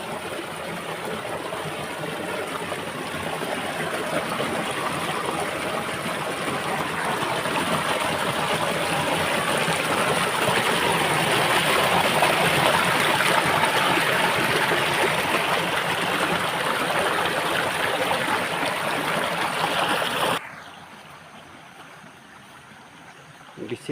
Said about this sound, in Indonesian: Ini sungai yang ada di kampung